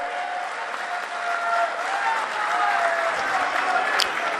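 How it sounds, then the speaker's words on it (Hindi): At a political gathering, a crowd gives loud, sustained applause to welcome a state party president, with dense clapping that swells slightly midway and murmuring voices mixed in. "जोरदार तालियों से स्वागत करेंगे"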